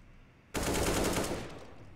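Automatic gunfire bursts out in a competitive Counter-Strike-style team match on Gamers Club, a loud, dense rattle of rapid shots starting abruptly and holding steady for over a second before tapering slightly.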